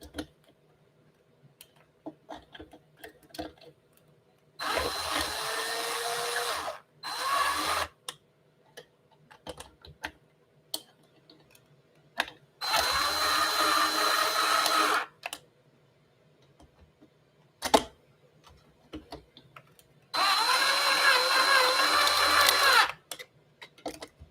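Short bursts of a power screwdriver whir during reassembly of a coffee grinder with new burrs, three main runs of a few seconds each separated by quiet gaps with faint clicks and taps.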